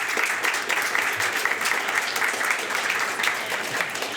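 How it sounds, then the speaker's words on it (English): Steady, dense applause from an indoor audience at an indie game developers' meetup goes on without a break, loud and close, with scattered cheers in the clapping. "Let's give Nicole a round of applause"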